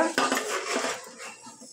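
Poha chivda being stirred in a pan after a tempering of cumin, mustard seed and hing, giving a close, steady scraping and clinking of a spoon against metal that tapers off toward the end.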